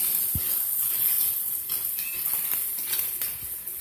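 Chopped whole onion sizzling as it goes into a hot pan in a home kitchen, a steady bright hiss with soft stirring scrapes and a light clink or two, close and continuous with no talking.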